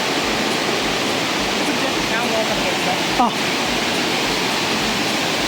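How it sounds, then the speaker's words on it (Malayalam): A river rushing through a forest sends up a loud, constant broadband roar of churning water, with a single short vocal sound briefly rising over it. "കാടിൻ്റെ ഉള്ളിൽ കൂടെ കുത്തൊലിച്ചുകൊണ്ടിരിക്കണ പുഴതെ നമ്മൾ കടക്കാൻ പോവാണ്"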